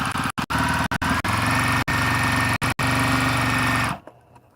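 A semi-industrial sewing machine drives fast through thick quilt layers with a steady, loud mechanical whir, broken by several brief stops before the motor winds down and falls quiet at the end.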